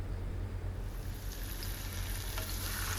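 Tomatoes frying in a hot pan in a small kitchen, a steady broadband sizzle running without a break, with a constant low hum from a small vent fan underneath.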